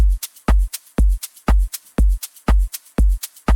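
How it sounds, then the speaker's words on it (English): A looping drum beat with punchy kicks, a shaker, crisp hi-hats and claps repeating in a tight, steady groove, loud and up front. "So it's a kick, shaker, hi-hat, clap rhythm, right?"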